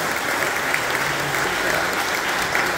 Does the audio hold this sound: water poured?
no